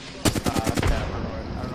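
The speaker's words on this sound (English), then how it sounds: "that was a grenade" A grenade blast in Apex Legends arrives as a sudden loud burst with rapid crackling pulses that trail off into a fading rumble within about a second.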